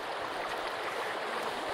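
Steady flowing water in the survival game Sons of the Forest, a continuous stream-like rush with an even, slightly grainy texture and no talking.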